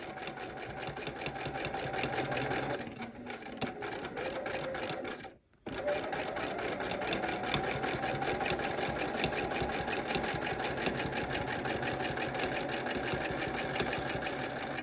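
A sewing machine quilts a stitch-in-the-ditch line along a seam, running as a continuous close, buzzing whir that cuts out for a moment partway through and then carries on steadily.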